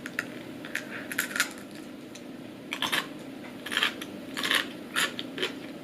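Crunchy preserved radish pickle is chewed close to the mic, with crisp, irregular crackling bites and rustles in clustered bursts over a low background hiss, and no talk.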